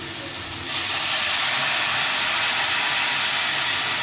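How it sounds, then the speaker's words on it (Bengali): Mango pieces fry in a pan, and mustard paste ground in water goes in. After a quieter start the pan breaks into a loud, steady hiss and sizzle that carries on to the end, with no talk. "আমটা একটু ভাজা ভাজা হয়ে গেছে। এবার আমি সর্ষেটা চিড়ে করে রেখে দিয়েছি, দিয়ে দেবো।"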